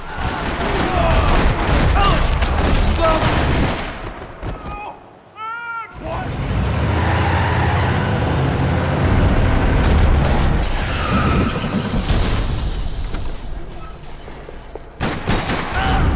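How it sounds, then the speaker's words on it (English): Dense, rattling bursts of gunfire and chaotic combat noise in a parking lot in the video game Max Payne 3, loud and continuous, with a brief lull partway through and voices mixed in. "Another parking lot rattling with gunfire."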